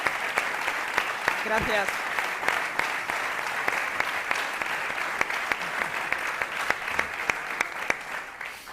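Audience applause at a political speech, a broad steady wash of clapping with a few sharper claps standing out, while a voice briefly speaks over it near the start.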